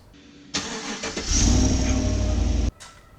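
A 2014–2018 GMC Sierra or Chevrolet Silverado pickup with factory exhaust cranks and catches, then revs with a fairly mild, muted exhaust note before cutting off abruptly.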